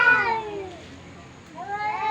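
A female cat gives two drawn-out, wavering meows close to the microphone, one at the start and another rising at the end, separated by a short quiet gap.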